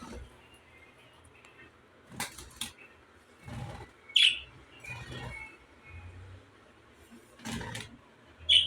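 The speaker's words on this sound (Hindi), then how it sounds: "ये हमारे पास न्यू तोते आए हैं, रात को आए हैं दो।" Two newly arrived parrots chirping in a home, a few short, sharp high calls scattered among thumps and rustles, faint to moderate, with someone talking briefly nearby.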